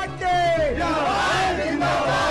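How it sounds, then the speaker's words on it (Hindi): A crowd of well-wishers gathers at Venkaiah Naidu's house in Delhi, a loud, dense mass of cheering and shouting voices with one rising call standing out above the din. "दिल्ली में वेंकैया के घर भी बधाई देने वालों की भीड़ लग गई"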